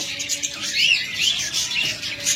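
Pet birds at a bird shop selling budgerigars, cockatiels, doves and lovebirds give off quick high-pitched chirps and tweets, a busy overlapping chatter that stays fairly close and steady without any talking.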